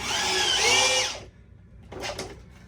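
Power drill driving a screw into a board for a homemade target stand, one loud whirring burst of about a second, then a brief pause and a shorter, fainter whir.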